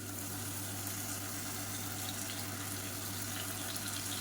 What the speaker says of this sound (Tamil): மிக்சியை அலசிட்டு அந்த தண்ணியை வந்து கொஞ்சமாக சேர்த்துக்கலாம்